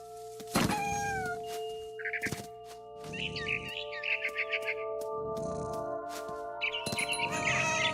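Game cat in What Remains of Edith Finch meowing several times, close and clear, with bird-like chirps and rustling footsteps between the calls; no talking.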